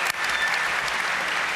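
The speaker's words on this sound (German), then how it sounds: "Aber erstmal Applaus für alle unsere Kandidaten" A hacker conference quiz-show crowd breaks into steady, even applause for the contestants that carries on without pause for a moment.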